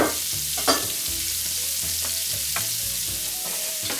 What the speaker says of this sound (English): I left a little bit of that bacon grease in here so that I can saute these vegetables.